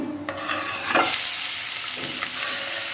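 Chopped onion drops into hot soybean oil in a pan, setting off a sudden loud hiss that settles into a constant close sizzle, with a few stirring scrapes before and after.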